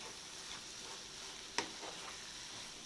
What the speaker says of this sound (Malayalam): കക്കാറച്ചി റോസ്റ്റ് നല്ലവണ്ണം അങ്ങോട്ട് റോസ്റ്റായിക്കൊണ്ടിരിക്കുകയാണ്